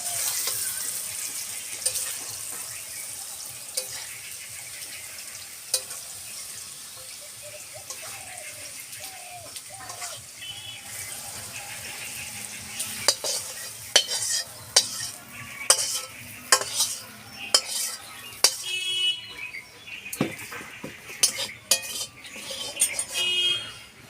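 Chopped papaya stirred into fried rice in a frying pan, a quiet sizzle at first giving way to loud, rhythmic scraping and clattering of a metal spoon against the pan, close up with no talking.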